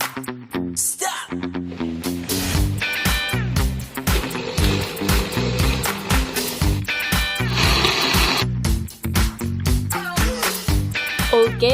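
An Omega National BL-T11A blender grinds dried chillies, its motor giving loud, close, pulsing whirs with stuttering bursts and short stops as the load shifts.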